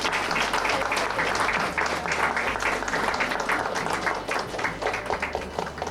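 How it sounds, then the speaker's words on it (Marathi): An audience at a recipe competition event claps loudly and continuously, a thick wash of many hands lasting several seconds with small swells and no talk on top. "जोरदार टाळ्या वाजवूया."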